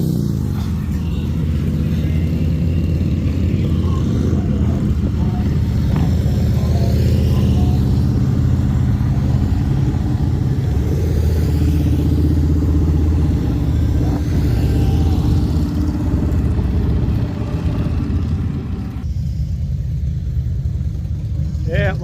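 A motorcycle pulls away along Main Street in Sturgis during the rally, its engine a steady, loud rumble that fills the whole stretch over a noisy street background.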